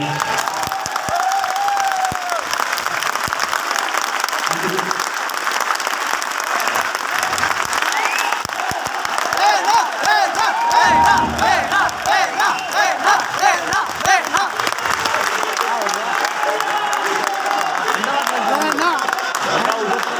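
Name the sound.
auditorium audience applause and cheering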